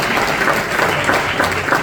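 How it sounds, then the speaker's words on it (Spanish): A church congregation claps together in steady, dense applause, a continuous close wash of many hands with no break throughout. "Denle un aplauso a Dios por ellos"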